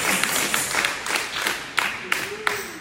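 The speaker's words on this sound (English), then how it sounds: "Oh, clap right there." A church congregation bursts into applause, steady clapping from many hands in a reverberant room with a few sharper individual claps standing out and a voice speaking briefly.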